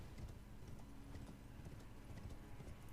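Horse hooves clip-clop on the ground in Elden Ring, quiet and continuous with a steady trotting rhythm, set under faint background game sound.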